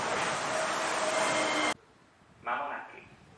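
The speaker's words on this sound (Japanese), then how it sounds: "お、E7 系が来ましたね。" A loud rushing roar of a passing high-speed E7 series Shinkansen train arriving at a station platform cuts off abruptly, followed by quieter station ambience and a brief whooshing swell.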